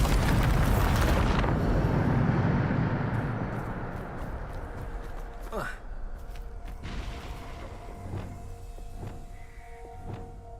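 Bombardo spell explosion in Hogwarts Legacy video game: a loud, close blast opens with a roaring burst that rumbles and slowly decays into crackling debris and scattered small pops.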